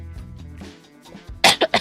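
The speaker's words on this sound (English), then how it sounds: "Sorry, I'm coughing, y'all." A streamer in a fitness Q&A livestream clears her throat, then gives three sharp, close coughs in quick succession after a brief pause.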